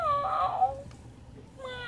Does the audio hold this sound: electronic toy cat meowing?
yes